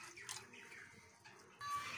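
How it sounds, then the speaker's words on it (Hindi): Two glasses of water poured into a cooking pot for a methi chutney give a faint, close splashing and trickling with a brief louder gush near the end. "2 ग्लास हम लोग पानी डालेंगे।"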